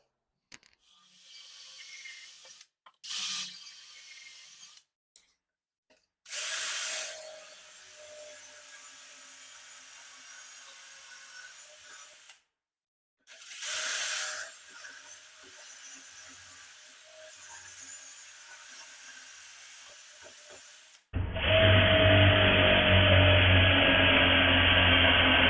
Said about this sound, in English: I'm just able to screw from these boards into the face of these boards